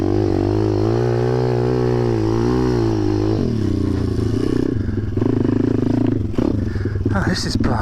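Zongshen 190 pit bike engine running after a bump start, a loud close motor whose pitch wavers and rises with revving, then settles into a rougher rattling idle while a rider talks over it.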